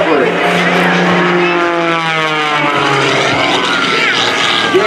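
Rob Holland's aerobatic propeller plane roars and whines through spins and a high-alpha pass at the 2019 Leesburg Airshow, engine pitch rising and falling continuously under a commentator's voice.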